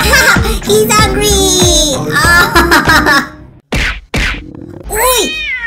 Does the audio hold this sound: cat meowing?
yes